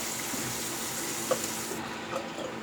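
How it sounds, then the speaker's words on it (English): Cold distilled water splashes steadily as a face is wetted before shaving, a continuous close running-water wash with a couple of small taps near the end. "I'm going to use cold water to wet the face."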